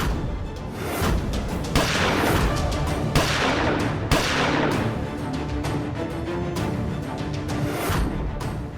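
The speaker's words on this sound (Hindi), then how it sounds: "आप लोगों ने गोली चला ली" Rapid, loud bursts of gunfire crackle almost continuously, with sharper cracks standing out amid a dense, chaotic barrage.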